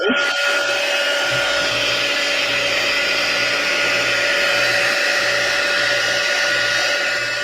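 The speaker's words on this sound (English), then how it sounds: "I'm going to take my heat tool." Heat embossing tool blowing hot air over embossing powder on paper, a loud, steady whooshing blower hum that switches on at the start and runs continuously.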